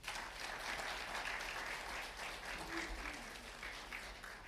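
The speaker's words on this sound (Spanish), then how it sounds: "Denle un aplauso al Señor." A church congregation applauds steadily, a faint, even wash of many hands clapping that continues for several seconds with no voices over it.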